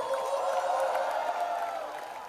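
A college crowd at NMIMS cheers and shouts for film director Shelly Chopra Dhar at a movie promotion event, a brief, loud blend of many voices whooping together that fades slightly at the end.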